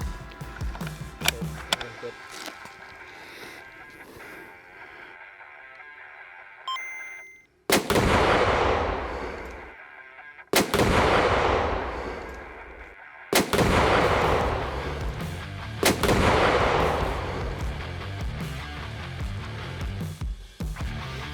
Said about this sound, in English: So we changed our angle for the second shot.